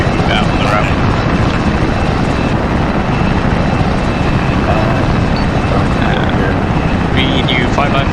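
Helicopters taking off in the Arma 3 military game, a loud, continuous rotor and engine roar filling the whole stretch, with radio chatter in the background.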